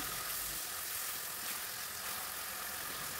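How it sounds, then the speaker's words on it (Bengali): Onion, ginger and garlic frying in oil while cooking beef, a continuous soft hiss of sizzling with a low steady hum beneath. "এখানে তেলের মধ্যে পেঁয়াজ, আদা, রসুন একটু ভালো মতো ভুনে নিচ্ছি।"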